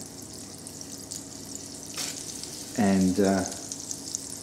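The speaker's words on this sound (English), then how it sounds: "I'm just going to add some butter to the pan." Butter and a garlic clove sizzle faintly in a hot pan, with a brief louder burst of crackling partway through and a voice in the background.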